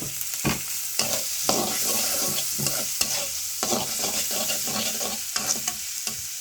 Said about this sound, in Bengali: পেঁয়াজ আর মরিচ তেলে ভেজে নিব